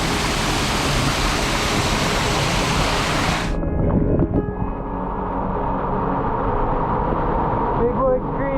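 Broadband roar of the waterfall on Bigwood Creek in Big Sur, loud and close for about three and a half seconds, then cutting to a softer, duller rush of creek water.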